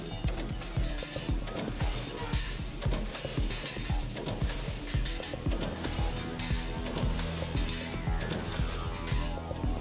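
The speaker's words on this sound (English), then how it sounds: "raw aluminum tubing is bent and shaped to exact specifications" Factory machinery bends raw aluminum tubing for treestands, a dense clattering, whirring mechanical din with repeated rhythmic knocks and ratcheting clicks, loud and continuous.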